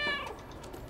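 A single cat meow from the video game Stray, short and clear with a falling tone, heard alone at moderate loudness against quiet game ambience.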